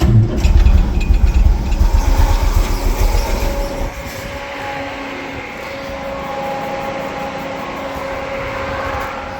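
A 1938 SS Jaguar 3.8 drophead with a fuel leak cranks and fires. A loud, dense rumble with rapid pulsing fills the first four seconds, then settles into a steadier, quieter idle with a humming tone.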